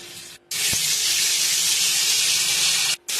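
Water hits hot oil seasoned with nigella seeds, green chilli, turmeric and salt while cooking a vegetarian pumpkin chhakka, giving a loud, close, steady sizzling hiss that lasts over two seconds before cutting off abruptly.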